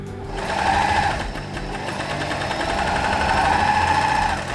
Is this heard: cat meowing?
no